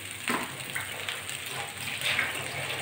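Water is poured into a hot pan of spices, potatoes and raw banana while a rohu fish curry cooks, giving a soft sizzle and splash with a few brief louder gushes over about three seconds.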